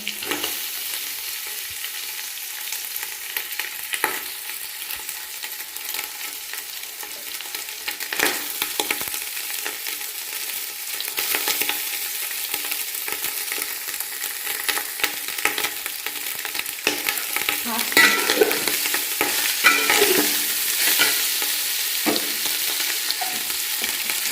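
Rice stirred into ghee fried with cashews, bay leaf, cloves, cinnamon and cardamom hisses in a steady bright sizzle for a long stretch, with scraping stir strokes that grow slightly louder toward the end.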